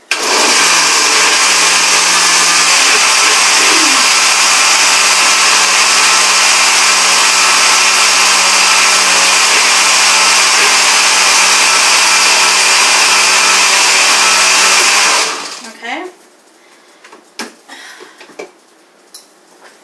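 A blender on high blitzing sweet tomatoes for marinara sauce roars loudly and steadily for about fifteen seconds, then cuts off, leaving faint clatter and handling sounds.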